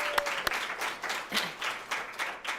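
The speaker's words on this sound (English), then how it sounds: "let's give our 10th grade team and Alan Rupar another round of applause" Quieter, scattered applause at a women's basketball banquet honoring a tenth-grade team and its coach, with a few sharp individual claps standing out and the clapping rising and falling unevenly.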